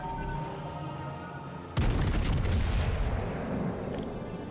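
Battleship guns fire in World of Warships: Legends from the premium battlecruiser Constellation, one sudden heavy boom after a calm hum, followed by a long rumbling roar that slowly fades.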